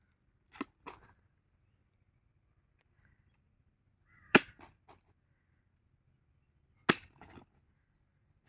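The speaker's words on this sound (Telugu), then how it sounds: "ఇప్పుడైతే ఇట్లా ముక్కలు చేసుకుందాం." Raw mangoes are chopped into pieces for pickle, heard as sharp, isolated blade strikes in three clusters of two or three hits each, separated by quiet gaps.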